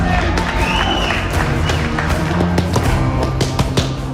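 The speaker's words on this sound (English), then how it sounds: "Such a great crowd just to see a man work." Crowd packed into Garcia's gymnasium to watch a boxer train, loud continuous cheering and chatter with scattered claps and thumps, dense and close throughout.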